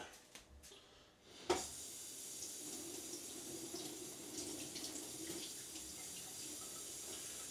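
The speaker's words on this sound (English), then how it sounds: "I'll just give that a quick rinse under the tap" Lamb pieces are rinsed under a running kitchen tap, heard as a steady, soft stream of water hissing into a sink after a brief knock, continuing evenly and fairly quiet with no talking.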